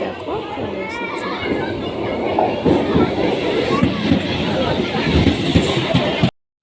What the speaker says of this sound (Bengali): আর তারপরে ট্রেন কিন্তু এই দেখো চলে এসেছে